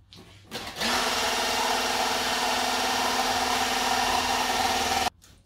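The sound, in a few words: electric mixer whipping cream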